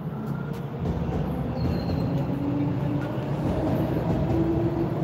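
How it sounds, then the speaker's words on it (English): A train passing at Old Mill Station in Toronto makes a steady, loud rumble and rolling roar that holds throughout, with faint squealing tones on top and no voices. "Ito po yung Old Mill Station train."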